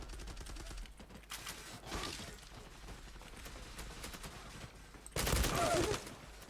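Gunfire from the online shooter game Zula: rapid bursts of shots, one brief volley early and a louder, denser burst near the end, over a quiet background of game noise.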